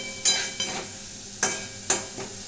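Potatoes fry in a pan while a spoon stirs them, giving a soft continuous sizzle broken by four sharp scraping strokes against the metal, each fading quickly.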